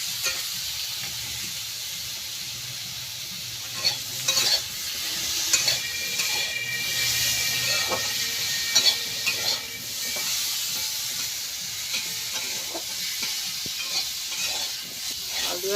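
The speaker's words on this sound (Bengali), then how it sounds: "আলু আর কুমড়ো ভালোভাবে ভাজা হয়ে গেছে" Potato and pumpkin pieces, salted and with turmeric, fry in a pan with a steady close sizzle, punctuated by repeated spatula stirs and scrapes throughout.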